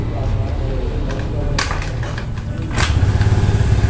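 A Suzuki Spin scooter engine idles roughly, then revs up with a sputtering, pulsing growl near the end, misfiring under throttle; a voice speaks briefly.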